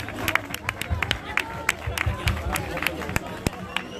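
Crowd applauding a finisher at the Ut4M trail race in Saint-Nazaire-les-Eymes, scattered claps and cheers mixed with background chatter and voices.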